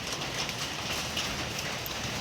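A brief, steady patter of rain falling on a surface, an even hiss with faint scattered drops and no voices.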